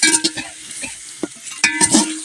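Ground masala being roasted in a pan for aloo khichdi, with close, uneven scraping and stirring strokes over a light sizzle, coming in short bursts with brief pauses between and no talking.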